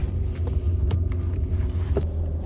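The engine of a Ferrari Testarossa rumbles deeply and steadily from inside the car as a December drive begins, loud and continuous with a few faint clicks.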